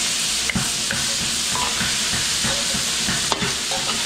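A utensil scrapes and stirs cordon bleu sauce in a pan over a steady sizzle, with a few sharp clinks of metal against the pan.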